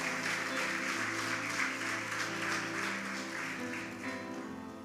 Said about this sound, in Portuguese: Pode aplaudir a Jesus.